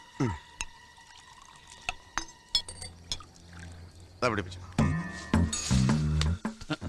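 Cold water is poured out in splashing gushes with some clinks, loud and close, mixed in with people talking.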